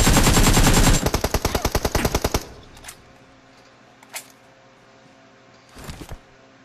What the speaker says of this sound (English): Why is this shooting?